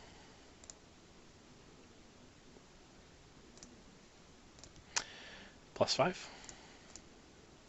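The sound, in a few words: clicking keys while typing an equation into a graphing page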